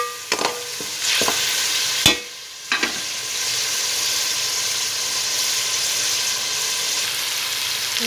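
Ginger, garlic and green chili fry in a pan with a steady close sizzle, broken by a few sharp stirring clacks early on, with no talking.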